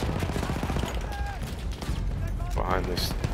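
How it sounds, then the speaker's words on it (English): Gunfire rattles through a Battlefield 1 campaign battle, a dense stream of rifle and machine-gun shots cracking close and far across a steady din of battlefield noise, with no pause. "Taking heavy shots."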